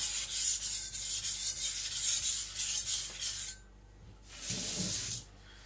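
An IKEA Chinese cleaver scrapes across a whetstone in repeated rhythmic strokes, a close, hissing rub that pauses briefly before one more pass.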